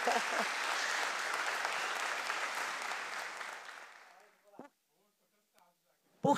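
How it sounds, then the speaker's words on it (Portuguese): Audience applause at a Brazilian municipal committee session on elderly mental health, loud dense clapping for about four seconds that fades out, followed by a few faint isolated sounds and near silence. "peço uma salva de palmas"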